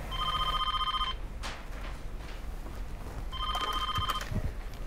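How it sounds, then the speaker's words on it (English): A telephone bell rings in two loud bursts, one at the start and another about two seconds later, with a brief silent gap between rings and no talk. "Now answer the fucking phone."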